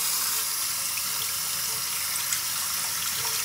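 Running tap water pours continuously over a goldfish tank item being washed under the faucet, a steady close splashing hiss with no talk.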